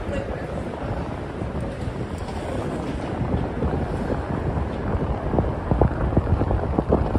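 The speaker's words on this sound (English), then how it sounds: "Ooh, that wind is brutal." Strong gusting wind buffets the microphone outdoors in New York City in a windy, tunnel-like stretch between buildings, a loud continuous low roar with rising bursts toward the end.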